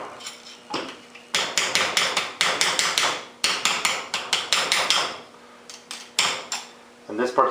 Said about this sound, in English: Driving out these brackets was much easier than I thought, using a plain rod and hammer.